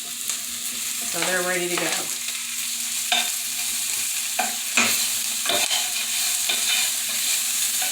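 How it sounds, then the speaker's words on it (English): Onions and washed potatoes fry in a pan for a breakfast casserole while a knife stirs them, producing steady sizzling broken by scraping strokes and clinks against the pan; a voice speaks briefly. "I'm just going to use my knife to kind of stir them around"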